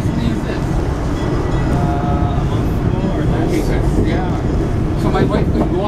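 A regular passenger train passes close by at Oceanside, a loud continuous rumble and rolling clatter with brief squeals, steady throughout, while people talk over it.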